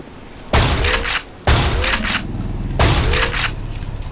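Three loud bursts of gunfire from the video game Black Mesa Source, each a dense volley lasting about a second, fired close up with short gaps between them and no talk over them.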